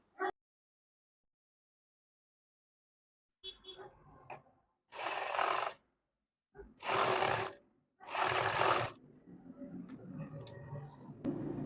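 A sewing machine stitches sleeve lining fabric in short separate bursts of whirring. Quiet gaps and handling noises fall between the bursts.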